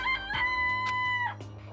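A rooster crows in the video game Danganronpa, a loud, close cock-a-doodle-doo with a sustained tonal call, followed by a brief cluck, heard alone without talk.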